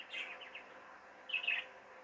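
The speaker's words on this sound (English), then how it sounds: "we do have a new baby budgerigar, the first of the season" A newly hatched baby budgerigar chick, the first of the season, giving faint, thin chirps in two short bursts, a cluster of quick peeps, a pause, then another brief chirping run, quiet and alone.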